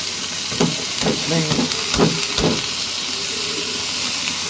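Vegetables frying in oil in a home kitchen, a constant loud sizzle and hiss with several soft thumps and stirring knocks from a spoon in the pan.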